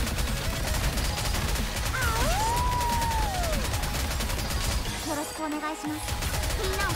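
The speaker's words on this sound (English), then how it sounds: "Okay, missile launcher." A missile launcher fires in the game Nikke during a co-op match, a dense, loud barrage of blasts and crashes running steadily through the whole stretch over busy game effects and music.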